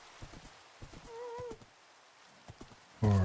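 A skeleton horse in Minecraft clops about in scattered hoof steps, with a short tonal cry in the middle. A loud thump closes the run.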